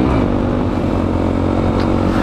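A Honda Grom 125 motorcycle engine hums loud and steady at constant speed during a morning commute ride, with no talking over it.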